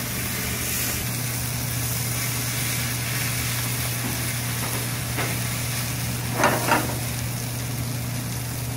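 Spaetzle with onions and a layer of Emmental cheese browning in a pan, giving a steady, even sizzle with a constant low hum behind it and a couple of brief scraping clicks near the end.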